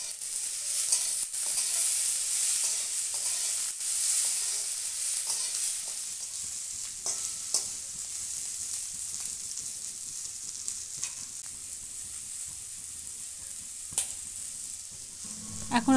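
Chopped tomato and capsicum sizzle steadily in a hot pan, a continuous bright frying hiss with occasional soft stirring clicks and pops, close and fairly loud with no talking.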